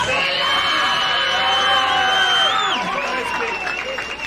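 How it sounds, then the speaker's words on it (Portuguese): A rap battle crowd cheers, whoops and claps loudly and continuously, with shrill shouts and whistles riding over the dense applause. "Uma salva de palmas pro Batalho"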